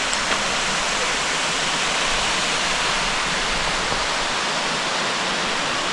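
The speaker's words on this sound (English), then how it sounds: "There's the waterfalls there." A waterfall in South East Queensland pours in a constant, dense hiss of rushing water, steady and full throughout with no voices.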